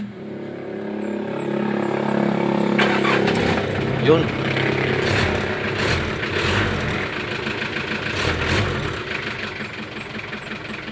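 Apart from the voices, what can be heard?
car engine restarted, revving and idling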